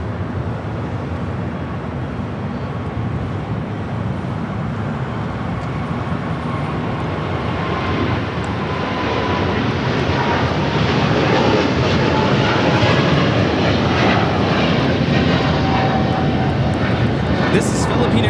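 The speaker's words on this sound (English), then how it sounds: "This is Philippine Airlines Flight 113 taking off to Manila on a 777-300ER." A Philippine Airlines Boeing 777-300ER taking off from LAX makes a loud jet roar that swells steadily toward the end, with voices mixed in.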